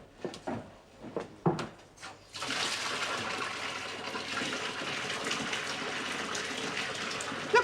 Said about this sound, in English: pick yourself a bath then and get it filled with water